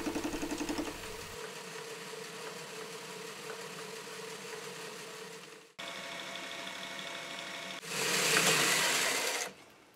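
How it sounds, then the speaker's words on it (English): A metal-cutting bandsaw cuts off most of a piece of stock for a micrometer stand, a steady mechanical whir that pauses briefly then resumes, with a louder, harsher burst of cutting near the end. "time to send it to the bandsaw, cut off most of that"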